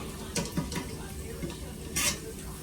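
Pork cracklings (chicharon) dropped into a pan of pinakbet vegetables and stirred, a faint soft sizzle with a few clinks and scrapes of a utensil against the pan, close and quiet.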